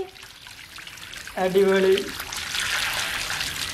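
Tap water runs while water balloons are filled, a steady splashing and trickling flow with a brief gurgling burst, and a voice speaks over it.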